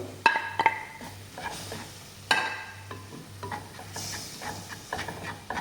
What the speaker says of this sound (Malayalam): നല്ലപോലെ വഴറ്റിയെടുക്കാം